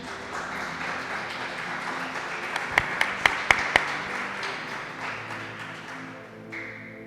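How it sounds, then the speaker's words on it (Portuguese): A church congregation applauds steadily in a large room, a dense wash of clapping with a few sharp louder claps near the middle before it thins out. "Você pode aplaudir Jesus então bem forte?"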